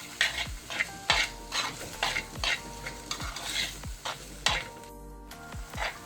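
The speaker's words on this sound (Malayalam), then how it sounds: "ഇനി നമുക്കിതൊന്ന് നന്നായിട്ട് മിക്സ് ചെയ്ത് ഇതൊന്ന് വഴറ്റി കൊടുക്കാം" Onions sautéing in a pan while a spoon scrapes and stirs them in a steady rhythm of repeated strokes, each sweep bringing a burst of sizzle and metallic scraping, close and clear.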